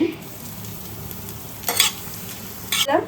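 Whole cumin seeds, dried red chillies and hing fry in hot oil while being stirred, a steady low sizzle broken by two brief, louder scraping stirs near the end; no one speaks.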